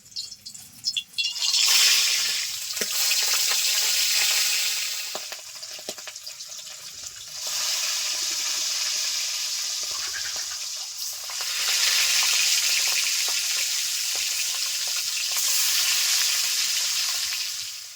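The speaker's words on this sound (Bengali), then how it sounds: "তেল গরম হয়ে গেছে মাছ ভেজে নিচ্ছি" River bacha fish frying in hot oil over medium heat, a steady loud sizzle that swells and eases in three long waves, with faint clinks and no talking.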